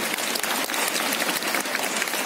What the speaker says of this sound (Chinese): 来给刘姐一个热烈掌声